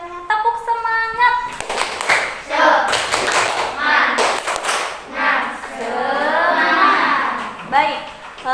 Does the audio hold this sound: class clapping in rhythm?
yes